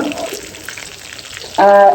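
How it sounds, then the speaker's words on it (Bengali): Chicken pakoras deep fry in a pan of oil with a soft, steady sizzle, then an abrupt, much louder tonal sound cuts in near the end. "আমার চিকেন পকোড়া ভাজা হয়ে যাচ্ছে এই এক খোলা ভাজতেছি আমি"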